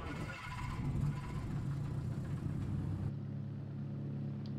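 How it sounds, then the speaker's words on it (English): A steady engine rumble from an aircraft starting up in the Prepar3D flight simulator, a continuous low drone that holds evenly for several seconds, then shifts to a smoother hum near the end. "Start this plane up."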